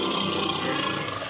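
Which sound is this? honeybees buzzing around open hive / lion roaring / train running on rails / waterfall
lion roaring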